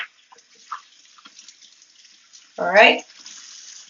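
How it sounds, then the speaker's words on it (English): Leeks rinsed under a running kitchen tap with the leaves opened up, after a vinegar wash; a short, loud burst of splashing water follows a brief spoken remark, over a faint, quiet background. "wash it first with the vinegar because of the contamination, and then afterwards with water, opening up the leaves of the leek"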